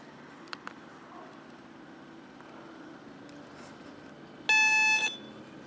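A Eurotek Pro metal detector switching on with a steady electronic tone lasting about half a second, loud and alone, after a couple of faint clicks.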